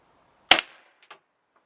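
A Webley Nemesis .177 CO2 air pistol fires a 7.9 grain pellet at a paper target, giving one sharp, loud pop followed by a faint, brief metallic tick.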